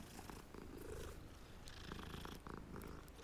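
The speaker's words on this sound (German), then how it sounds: "Du hast eine Katze, ich will kurz streicheln." A cat purrs steadily while being petted in the Hogwarts Legacy video game, a soft continuous rumble with game ambience around it and no talking.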